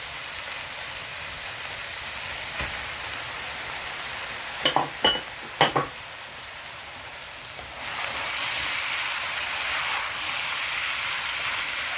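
Tomatoes and onions fry in a pan with no extra oil, giving a continuous hissing sizzle. A few sharp utensil clinks sound midway before the sizzle swells louder.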